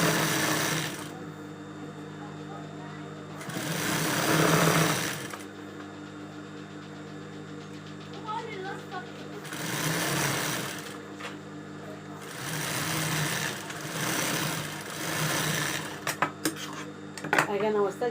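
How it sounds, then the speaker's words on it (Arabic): A sewing machine stitches two fabric pieces together in several bursts of rapid mechanical whirring, each running a couple of seconds, separated by pauses filled with quieter handling and faint clinks. "واقوم ماشيه ايه عليهم بالمكنه، يعني اوصل كل 2 في بعض"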